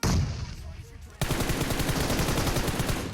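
Bursts of automatic gunfire in PUBG Mobile, a short shot then a rapid rattling volley that runs continuously to the end, fairly loud and close.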